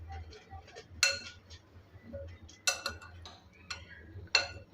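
Cut potatoes being stirred with turmeric, red chilli powder and salt, giving scattered light clinks and taps of a spoon against a bowl, a few sharper knocks standing out over a low background hum.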